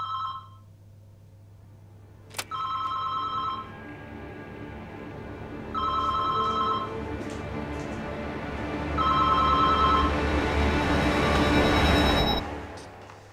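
A telephone rings in a hotel room in repeated electronic bursts, about four rings separated by short pauses, loud and close, with a low steady hum underneath.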